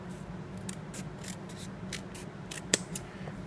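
EDC scissors snip through thick 6 to 8 ounce rawhide leather, giving a soft, crisp cutting rustle that ends in one sharp, close snap near the end, with no talking.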